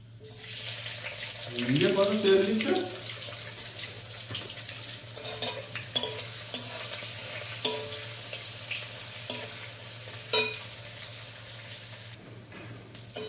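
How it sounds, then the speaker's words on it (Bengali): Onions frying in a pan for chicken curry give a steady hissing sizzle under scattered clicks of a stirring utensil, with a brief voice early on. "পেঁয়াজগুলি এবার দিয়ে দিচ্ছি।"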